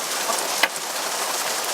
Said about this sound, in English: It's definitely a big band of rain coming down.